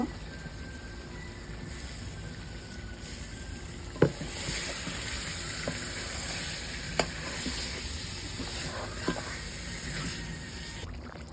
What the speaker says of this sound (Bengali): সাথে যে মাংসটা কষানো হচ্ছে এদিকে